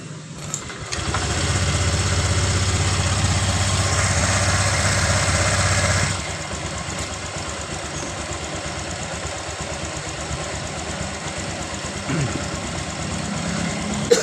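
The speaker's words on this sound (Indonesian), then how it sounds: "saat posisi mesin dingin dihidupkan" A car engine with a blown water pump seal and coolant-contaminated oil starts from cold and settles into a steady, loud idle, with a rough, rumbling drone that drops slightly in level after a few seconds.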